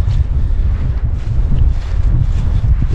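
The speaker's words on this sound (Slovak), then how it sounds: "odtiaľ síce aj pekne fúka, ale nie až tak zima ešte" Steady, loud wind buffeting the microphone at a mountain viewpoint overlooking Vyšný Slavkov, a continuous low rumble with gusty swells and no voices.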